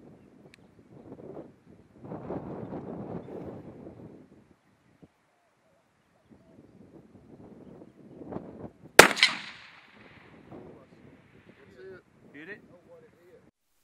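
A 6.5 Grendel rifle fires once at a target 603 yards away in strong wind, a single sharp crack amid gusty microphone wind noise, with quiet voices before and after.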